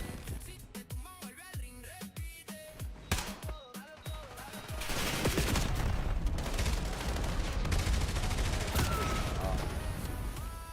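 Call of Duty gunfire: sharp, separate shots crack in the first few seconds, then a dense, sustained barrage of automatic fire and explosions fills the rest of the clip at a moderate level.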